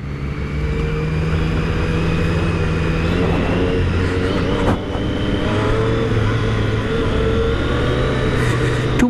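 A 2017 Triumph Street Triple S naked motorcycle engine pulls steadily and loudly up close, a sustained mid-pitched drone rising through the gears, with wind rush and no talking.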